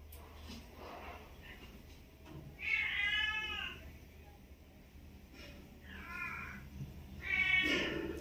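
A hungry pet cat meows repeatedly at home near freshly bought market chicken and isaw, three drawn-out rising cries standing out clearly over a quiet room with faint background murmur.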